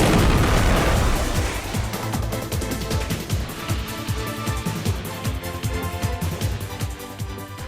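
A heavy blast opens loudly, followed by a long rumbling, crackling wash of debris and rolling booms that slowly fades.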